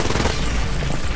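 Rapid gunfire in the shooter game Wolfenstein Youngblood, a dense loud burst of overlapping shots filling the whole brief moment without any gaps.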